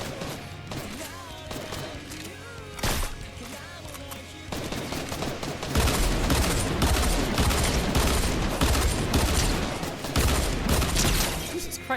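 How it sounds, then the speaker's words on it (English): Dual pistols firing in a video game, rapid loud close shots rattling in quick succession, sparse at first and then a dense, continuous barrage through the second half, with a voice briefly audible. "why are the dual pistols so fucking loud"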